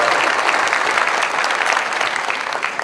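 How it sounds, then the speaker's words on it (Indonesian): Loud, close applause from a large audience at a youth event, thanking the organizers, a thick wash of clapping that holds strong and then eases slightly toward the end. "Kita beri tepuk tangan untuk mereka yang menyiapkan acara."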